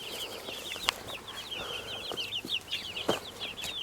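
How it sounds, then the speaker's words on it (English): Chickens on a permaculture homestead garden cluck and chatter repeatedly at moderate distance, a busy run of short, high calls over a quiet outdoor background, with a few soft knocks. "and some funny chickens"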